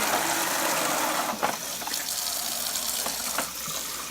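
Soaked sweet rice for Kapampangan suman is rinsed under a running tap, a steady close gush of water with splashy surges and small knocks of grains and bowl, no voices.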